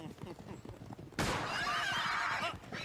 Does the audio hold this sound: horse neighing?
yes